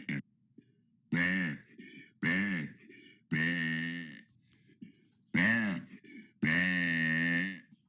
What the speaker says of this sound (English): 48 of burping for 100 days.